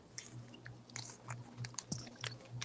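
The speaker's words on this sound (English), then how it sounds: "I was eating a granola. Yeah, I heard the crunch crunch." Granola being chewed close to the microphone, with quiet irregular crunches and bites at low volume over faint background hum.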